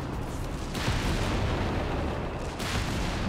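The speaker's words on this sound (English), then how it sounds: "Zeroing artillery, I think, coming in again" Artillery fire in Company of Heroes 3 during a 2v2 match: a dense, continuous rumble of booms and blasts that swells louder around the one-second mark and again near the end, with no talk.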